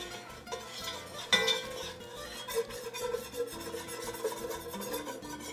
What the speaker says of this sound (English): So we're going to stir it about a minute. Get all the little clumps out of flour